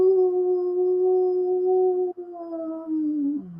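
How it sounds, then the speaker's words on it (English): A low, drawn-out howl in a Halloween tabletop role-playing game, one steady sustained tone with overtones that wavers and slides downward at the end, clear and alone. "you hear a low howl."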